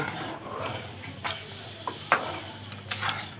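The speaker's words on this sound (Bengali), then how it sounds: "এভাবে অনবরত নাড়তে থাকবে" A spoon stirs semolina into boiled potato and onion in a pan over a low flame, giving soft scraping with a few sharp clinks against the pan.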